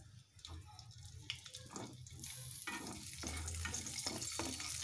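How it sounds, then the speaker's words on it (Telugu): Bajji chillies frying in a couple of spoons of oil in a pan, with a steady close sizzle and crackle that grows louder and denser partway through, with occasional stirring scrapes. "మళ్ళీ పాన్ పెట్టుకొని 2 స్పూన్స్ ఆయిల్ వేసుకోవాలి। దీంట్లో ఈ బజ్జి మిర్చిని వేయించాలండి।"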